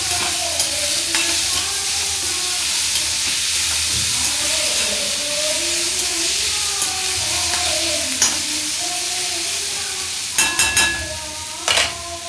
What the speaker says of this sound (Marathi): आता आपण यात चिरलेला टोमॅटो घालूया परतून घ्यायचं आहे